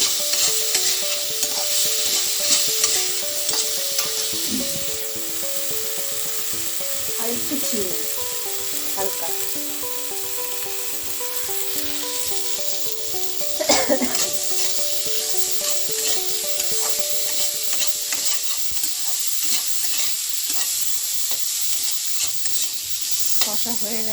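Spices, including Kashmiri chili powder, fry in oil with a bright steady sizzle while a spoon scrapes and stirs the pan in repeated strokes, some loud and close.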